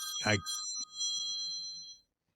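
A phone ringtone plays in bursts of bright, steady electronic tones over a quiet room, with a person's voice briefly overlapping at the start before the ringing fades out.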